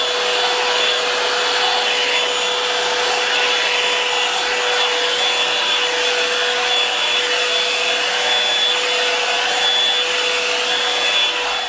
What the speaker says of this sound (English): finish blow drying this part because it's taking me forever to do